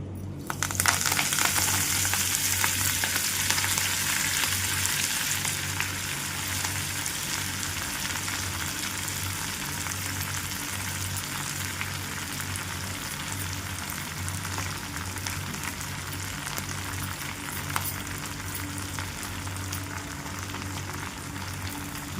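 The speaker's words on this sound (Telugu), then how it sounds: "ఇప్పుడు నువ్వుల నూనె కాగిందండి. ఇప్పుడు నేను ఇందులో మెంతాకు వేసేస్తాను." Fenugreek leaves frying in hot sesame oil, a dense crackling sizzle that bursts loud at first and then settles into a steady, slightly softer fry over a low continuous hum.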